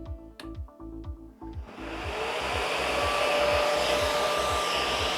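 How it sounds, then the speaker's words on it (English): Orbital sander with dust extraction starting up on low speed to sand the first coat of microcement, a few clicks and rhythmic thumps giving way to a loud, steady whirring hiss from the motor and vacuum. "I'm going to put the orbital sander on a low speed and just start working around the surface of the microcement."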